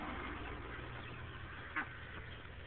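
A small flock of farmyard ducks kept with chickens, quacking faintly in the background under low rumble, with one sharper quack standing out near the end.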